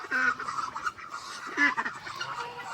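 Geese or ducks honk at a goose bathing pool, several loud nasal calls overlapping in quick irregular bursts, close by with a busy background.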